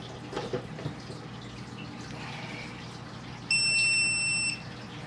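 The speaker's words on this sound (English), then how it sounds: "it says an alarm should sound when I plug it in due to low humidity." An egg incubator's low-humidity alarm sounds as a steady electronic tone for about a second, loud and close over faint background noise.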